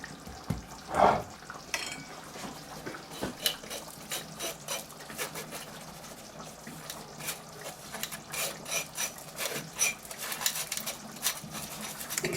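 Icing sugar being sieved for a lemon drizzle cake icing: a faint, quiet run of scratchy, rattling taps and rustles, close but soft, with no talk.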